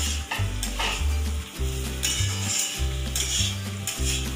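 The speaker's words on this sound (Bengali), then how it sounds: "এবার আমি ভাজা আলুটাও এর মধ্যে দিয়ে দিলাম।" Fried potatoes go into a sizzling Bengali fish head curry (muri ghonto) while a spoon stirs and scrapes the pan in quick, repeated strokes over a constant loud frying hiss.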